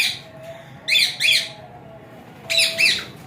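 Rosella parrot with red, yellow, blue and green plumage giving harsh, close squawks in two paired bursts separated by a short pause, over a faint steady background hum.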